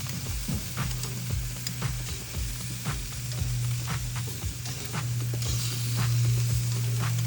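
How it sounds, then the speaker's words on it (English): Salmon sizzles on a barbecue alongside chicken thighs in a steady, close hiss with scattered crackles and pops over a low background hum. "I can hear that salmon sizzling."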